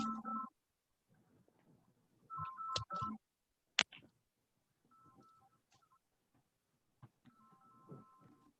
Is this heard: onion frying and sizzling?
no